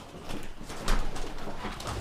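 Feral pigeons coo softly and repeatedly in a loft, with low, rolling calls over a rustling, busy background.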